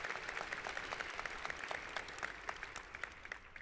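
Graduating-class audience applauding a scholarship announcement at a high school graduation ceremony, a steady wash of many hands clapping at moderate distance, fairly quiet and continuous throughout.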